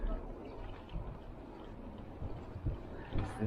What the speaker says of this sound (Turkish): Her video çektiğimde hava rüzgarlı oluyor.